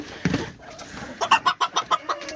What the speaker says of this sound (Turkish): Bakın hemen horozlar çağırıyor.